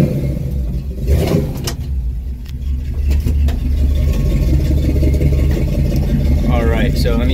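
A warmed-up 1972 Chevy truck engine runs at a steady low rumble after starting, with a brief rev near the start and a voice talking over it.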